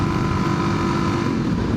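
Motorcycle engine running in third gear on a straight road, a steady buzzing drone with some wind roar, continuous and close, with no talking.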